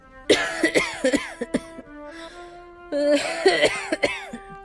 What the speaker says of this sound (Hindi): ये तो दादी के खांसने की आवाज है।